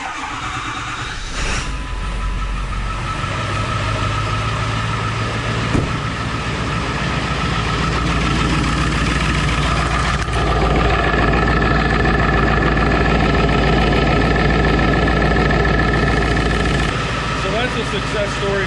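Ford 7.3 Powerstroke diesel engine turns over and settles into a steady, loud idle, a continuous low rumble filling the recording after a brief start, with some background noise mixed in.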